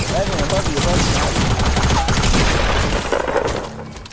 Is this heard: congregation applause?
no